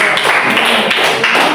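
A group of people in a classroom or seminar session claps for a presenting group, a brief burst of applause with dense, crackling hand claps at a fairly steady level.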